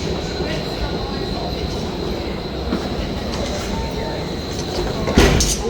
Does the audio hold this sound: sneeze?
no